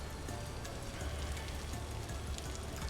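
Steady rain pattering on surfaces in the video game Vintage Story, a dense even hiss continuing unbroken and close throughout without voices.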